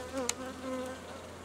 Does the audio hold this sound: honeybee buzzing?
yes